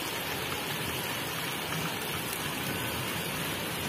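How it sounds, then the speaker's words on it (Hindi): Steady, dense hiss of heavy rain in strong wind pours without pause, a constant wash of water noise with no voices. "यहाँ पे बहुत जोर की बारिश हो रही है और बहुत तेज से हवा चल रही है"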